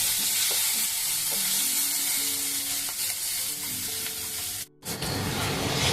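Yardlong beans sizzle and crackle steadily in a hot pan, with occasional stirring scrapes and a brief break near the end before the frying resumes, close and loud.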